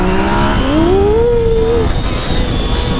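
A powerful XJ6 motorcycle pulls away loudly, its engine note rising steadily in pitch as it revs and accelerates, then settling back against a rough background of engine noise.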